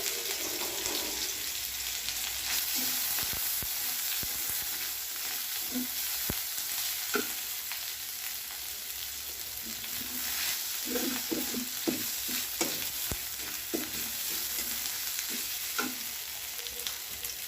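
Ginger and garlic paste sizzling in hot oil with whole spices in a pan for polao, a continuous close frying hiss with scattered light clicks and scrapes of a spoon stirring.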